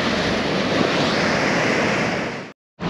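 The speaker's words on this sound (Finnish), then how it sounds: "Nyt olisi hyvät aallot surffaksi." Steady roar of ocean surf breaking on a Miami beach, continuous and broadband with wind over the microphone, then a brief cut to silence near the end.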